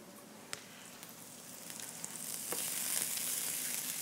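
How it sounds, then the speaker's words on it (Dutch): Shallots frying in a pan while cooking salmon with noodles and green asparagus, a close steady sizzle that swells louder toward the end, with a few light clicks and no talk. "Die shallot fruiteren."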